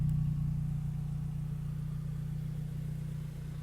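A Morgan Plus 4 engine idles with a steady, low, even rumble close by, holding the same smooth hum throughout with no revving.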